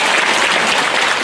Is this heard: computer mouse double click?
no